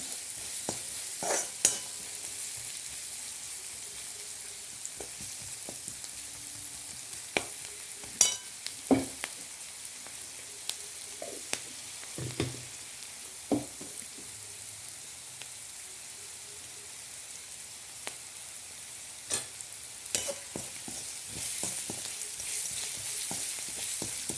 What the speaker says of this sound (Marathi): चांगलं परतून घ्यायचे ब्राऊन होईपर्यंत